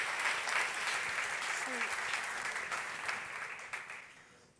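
A conference keynote audience breaks into applause after a card trick, a dense, moderately distant clapping that holds for several seconds before tapering off, with a voice briefly heard over it.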